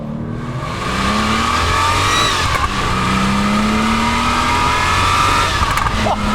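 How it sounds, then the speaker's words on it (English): A Porsche 911 (993) engine holds a loud, steady note with rising and falling revs, the exhaust ringing out nearby with no talking. "what a fantastic machine and what a fantastic engine note."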